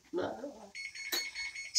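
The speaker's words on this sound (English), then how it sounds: "That's the timer going for letting me know that the oven has already preheated." A kitchen oven timer beeps to signal the oven has finished preheating, a steady high electronic tone, quiet and nearby, following a brief bit of speech.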